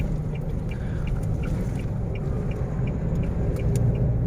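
A six-wheel truck rolls along in a convoy of trucks carrying temple merit-making pilgrims, its engine a steady, loud, continuous rumble with road noise and faint high chirps above it.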